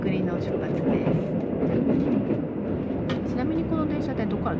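The Wide View Hida limited express train departs slowly: a steady rumble with a clickety-clack of wheels over rail joints and faint squeals, close and continuous, with no speech over it.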